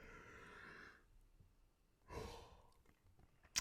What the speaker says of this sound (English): hopefully that big yawn got everything out